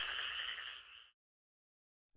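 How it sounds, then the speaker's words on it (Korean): Frogs croak at night in a dense, steady trilling chorus for about a second. It then cuts off abruptly to silence. "삼봉이는 밤에 잠도 못 자고 졸린 눈으로 밤새도록 장대를 들고 개구리들을 쫓고 다녀야 했습니다"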